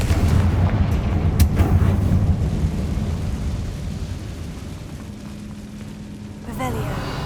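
A Confringo blasting spell explodes in Hogwarts Legacy on PS5, giving heavy booming bursts and a rumbling roar that stays loud throughout, with a fresh sharp blast near the end.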